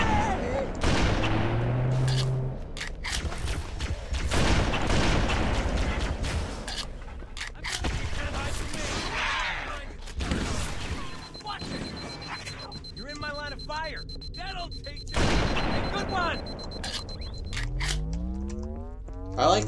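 Sniper rifle shots in Halo: Combat Evolved, several sharp reports spread through a busy game mix, with someone talking over them and electronic beeps and tones.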